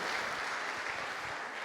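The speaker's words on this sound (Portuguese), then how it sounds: "Quero que você dê um aplauso para você agora" A church congregation claps during a Sunday service, a short, dense burst of applause from many hands filling the room, alone without talk.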